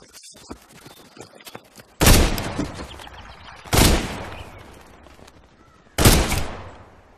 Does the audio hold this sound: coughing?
no